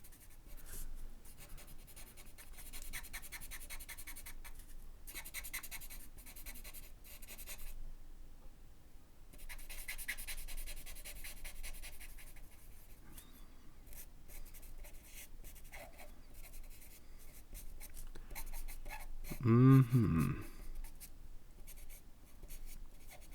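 A pencil scratches steadily across paper while an olive tree landscape is drawn, with continuous soft scraping strokes in bursts and a brief louder thump or rustle near the end.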